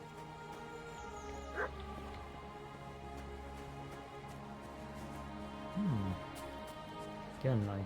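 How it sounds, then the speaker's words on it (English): A dog whimpers and gives a few short yelping barks at intervals over a steady background hum, fairly close, with brief rising whines between quieter stretches. "Again, I hear a dog."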